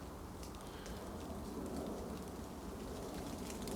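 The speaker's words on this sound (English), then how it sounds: "Oh no, it sounds like it's raining." Steady rain patters continuously on a surface, a dense, even hiss with a soft low rumble underneath and no voices.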